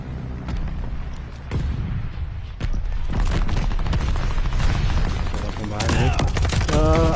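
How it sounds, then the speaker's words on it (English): Explosions from a bombing run mixed with gunfire in Call of Duty Vanguard, heavy booming blasts and rattling shots overlapping continuously, loud and dense, with voices briefly heard under the din. "Friendly bombing run on the way."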